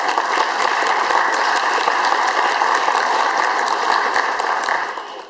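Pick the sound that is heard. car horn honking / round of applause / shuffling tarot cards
round of applause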